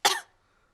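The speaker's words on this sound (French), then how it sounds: "Mais regardez ce qui se passe quand je tousse." A cartoon pig gives a single short cough, loud and close, that fades out quickly into silence.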